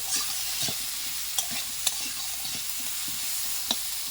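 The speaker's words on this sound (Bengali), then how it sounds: "আলুটা একটু লাল লাল করে ভেজে নিতে হবে" Potatoes frying in a pan as they are stirred, giving a steady soft sizzle broken by a few sharp scraping clicks of the spatula, close and moderately quiet with no talking.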